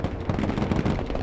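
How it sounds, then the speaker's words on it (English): Recoilless rifle fire in the Broken Arrow war game during an airbase battle near Kaliningrad: a dense, continuous roar of booms and rumbling blasts, loud and close, with no pause and no talk. "at close range, that recoilless rifle will do some damage"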